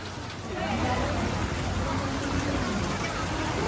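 Steady rain pours down on a crowded street in Ximending, Taipei, a dense hiss filling the background, with faint crowd chatter mixed underneath.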